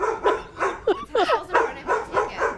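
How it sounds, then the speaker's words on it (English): A big Doberman barks in a steady series of about six loud, sharp woofs from a hallway, with a few higher yelping notes in the middle. "the big dog Doberman is actually in the hallway."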